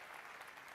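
Audience applause for a drumline at a game showcase event, a brief wash of clapping that sounds faint and distant.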